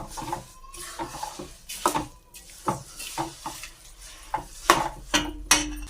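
Sesame seeds being stirred into hot jaggery syrup in a pan, a spoon scraping and clanking against the metal in repeated uneven strokes, close and fairly quiet, with a faint sizzle between the strokes.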